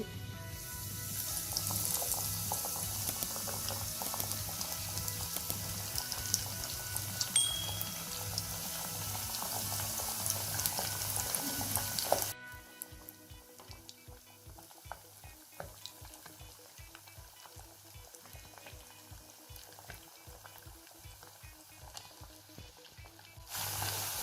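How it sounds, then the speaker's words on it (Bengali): Chicken pieces, coated in breadcrumbs, dropped into deep hot oil: a loud, bubbling sizzle that drops abruptly halfway through to a quieter, steady frying crackle with faint rhythmic pulses. "আমার তেলটা গরম হয়ে গেছে। আমি এখন ওয়েন্সগুলোকে তেলে দিয়ে দিচ্ছি।"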